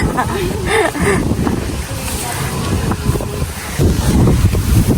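Strong wind over rice fields buffets the microphone in loud, gusty rushes, with brief indistinct voices heard beneath the roar.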